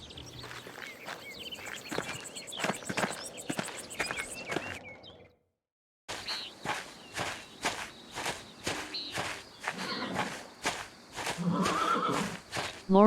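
Horses in a medieval setting plod along with a steady clip-clop of hooves, broken by a short silence, and one horse whinnies near the end. No one speaks.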